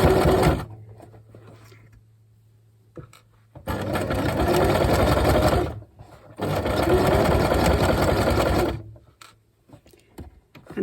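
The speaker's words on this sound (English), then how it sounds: "just using a straight stitch again to medium length, and I'm going to forward and backward at the top" A sewing machine runs a medium-length straight stitch on a drawstring rucksack in two long, loud, steady whirring bursts separated by pauses with quiet motor hum.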